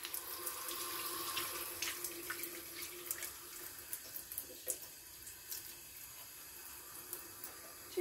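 Tap water running into a sink to flush greenfly off container-grown green beans, a steady moderate gush that thins into splashes and drips toward the end, with no voices.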